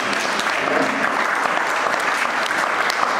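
A church congregation applauds during a French-language sermon, a steady, loud wash of clapping from many hands that carries on evenly from start to finish.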